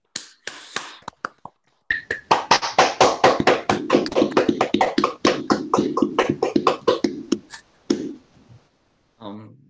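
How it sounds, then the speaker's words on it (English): A small audience at a mathematics lecture gives a round of applause after the talk, with distinct, sharp individual claps in a brisk irregular patter that dies away, framed by brief speech before and after. "Let's give Hana a round of applause, everybody."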